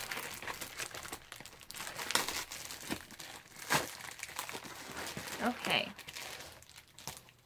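A mailed Ipsy bag package being opened, its sticker seal torn and plastic crinkling in bursts close by, with someone speaking briefly over the handling.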